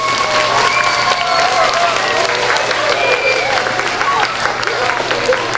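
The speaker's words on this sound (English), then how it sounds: "Can you give her a round of applause?" An audience at an opera singer presentation applauds a pianist: a steady, dense wash of clapping that stays loud and even from start to finish.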